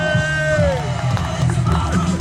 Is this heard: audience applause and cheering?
yes